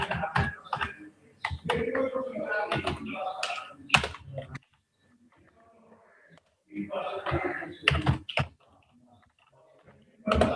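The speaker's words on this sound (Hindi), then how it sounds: "मैं क्या यहाँ पे कुछ टाइप कर लेता हूँ।" Fingers type on a computer keyboard in two dense runs of close, rapid clicks separated by a quiet pause.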